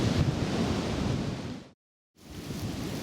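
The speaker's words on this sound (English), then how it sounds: "I think it's just a bit too windy for cooking" Wind at a wild camp with a poncho shelter, a loud, roaring rush buffeting the microphone, cutting to near silence for a moment before gusting back in just as strongly.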